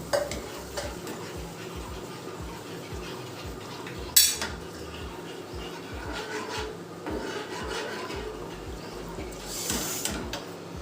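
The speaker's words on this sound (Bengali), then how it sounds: "একটু নাড়িয়ে দিই" A spoon scrapes and stirs a thick spice paste in a pan for dahi paneer, with rhythmic rasping strokes close up and a sharp metallic clink partway through.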